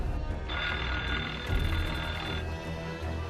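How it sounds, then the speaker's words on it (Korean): Telephone ringing in the opening scene of the horror film Scream, with a sustained bright electronic ring that holds for about two seconds over a low background rumble. "전화"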